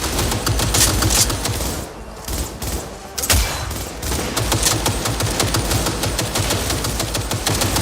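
Sustained close-range gunfire in the video game Cyberpunk 2077, dense rapid automatic bursts filling nearly the whole stretch, loud and near, with a brief lull partway through.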